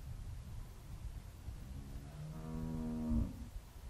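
A cow in The Walking Dead video game gives one long, deep moo that swells late and ends abruptly, heard alone over a low rumbling background.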